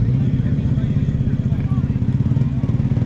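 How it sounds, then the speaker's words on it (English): A classic Ford Mustang engine at a classic car rally in the Chiltern Hills gives a deep, steady, pulsing rumble, loud and close throughout. "that's got a real raughty, baritonal sound to it"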